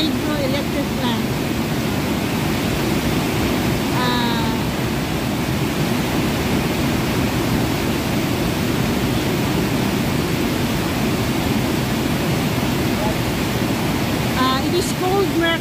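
Maria Cristina Falls, a waterfall on the Agus River that feeds a hydroelectric plant, roars as a steady, loud broadband rush across the whole stretch, with faint bird chirps over it.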